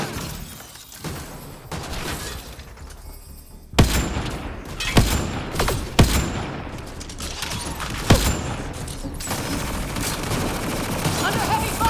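Combat gunfire in the video game Mass Effect Andromeda: sustained rattling weapon fire punctuated by several loud, sharp shots and impacts, with game dialogue in the mix.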